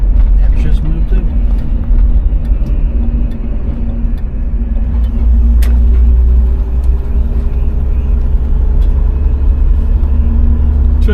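A 1967 Pontiac Firebird engine rumbles low and steady from inside the car while driving, a constant loud drone with a voice talking over it.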